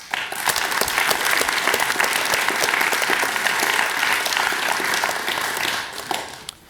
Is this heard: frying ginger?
no